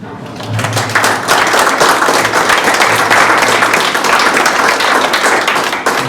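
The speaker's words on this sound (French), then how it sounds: "Et ça va être pour les applaudissements." Sustained audience applause and clapping fills a launch party for a crowdfunding campaign, loud and dense from start to finish, with a few voices and cheers mixed in.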